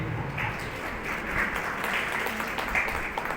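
Students clapping in a classroom science quiz after a team answers correctly, a steady wash of applause lasting the whole moment, moderately loud and close.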